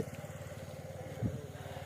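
An 80-year-old tractor engine chugs in a steady, rapid rhythm with a brief louder puff partway through, close and continuous.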